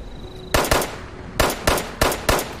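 Pistol fire in Fallout 76 rings out as six sharp, loud shots: a pair first, then a pause and a rapid string of four, each with a brief echoing tail.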